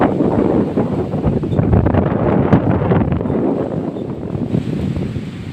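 Strong, gusty typhoon wind under a signal no. 4 storm warning buffets the microphone in a continuous heavy roar, rumbling low and steady throughout.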